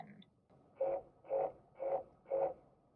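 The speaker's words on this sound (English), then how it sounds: "Most people prefer the steering wheel vibration." A car's lane departure alert delivered as steering wheel vibration: four evenly spaced buzzing pulses, each about a third of a second, close and moderately loud over a quiet cabin.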